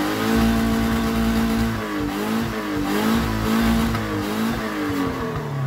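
A van engine with a failing head gasket that burns coolant runs loudly and close by, its steady droning idle wavering slightly in pitch with small rises and dips throughout.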